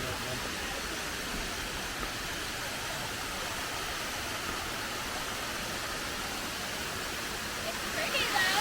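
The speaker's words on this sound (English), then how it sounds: "That is a serious waterfall." Powerful waterfall at Jones Falls in the Roan Highlands, a steady broadband roar of crashing water filling the scene without a break, close and constant with no voices over it.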